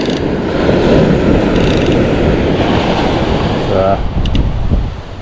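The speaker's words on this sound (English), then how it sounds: "The beauty of having an overhead reel on the beach is you got that ratchet." On a beach, the ratchet of an overhead fishing reel clicks in a brief rapid run, nearly buried under loud, constant surf and wind.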